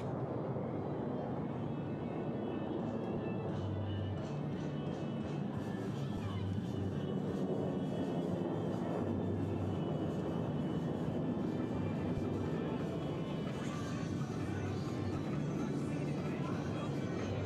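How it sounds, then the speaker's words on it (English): Blue Angels F-18 jets fly an air show maneuver, heard as a continuous distant roar of jet engines with a rumbling low end that rises and falls while an announcer talks over it. "they'll execute a maximum performance climb with a split S reversal, bringing their aircraft back over show center"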